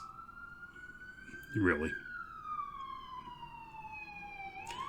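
An ambulance siren wails past outside, its rising and falling tone sweeping steadily across the clip, with a brief spoken word partway through.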